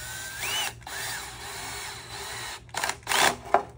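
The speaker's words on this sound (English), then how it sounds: "Be very careful if you're gonna use an electric drill." An electric drill whirs close by in short bursts while fitting a front lip to a Toyota Corolla E210, its pitch rising as it spins up, then a few quicker bursts of drilling.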